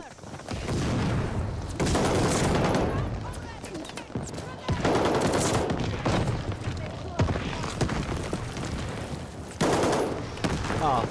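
Rapid automatic gunfire in Call of Duty Vanguard, loud close bursts with long sustained volleys and short gaps between them.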